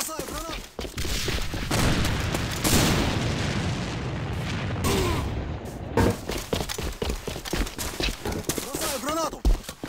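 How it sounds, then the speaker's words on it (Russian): Gunfire and explosions in a combat video game, a dense, loud stretch of shots and booms that runs through most of the clip, with shouted voices over the fighting. "Бросаю гранату!"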